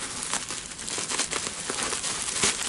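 Plastic bubble wrap around a small puzzle-cube package crinkles and crackles steadily as it is struggled open by hand, close and continuous, with a few sharper tearing snaps, and no one talking.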